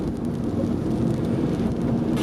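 Rain falls steadily around a car being driven with LED headlights, making a loud, continuous rush with wind-like rumble and no talking.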